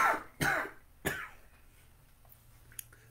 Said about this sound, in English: Made myself cough.